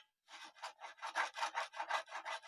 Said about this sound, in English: That is just the sound of these 2 sides, the non-diamond coated sides, rubbing on my frets